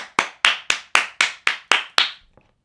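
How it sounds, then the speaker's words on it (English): Hands clap eight times in a steady, even rhythm, each clap sharp, close and loud, with a faint tap trailing after the last one. "Now is the time to clap at your computer, your telephone, or your TV"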